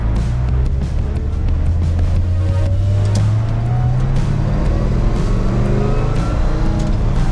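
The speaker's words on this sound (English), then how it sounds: "I love the sound of that Muncie in this thing." A 1964 Chevy El Camino with a Muncie transmission accelerates from inside the cab, its engine note climbing steadily in pitch over several seconds as the revs rise, loud and continuous with no talking.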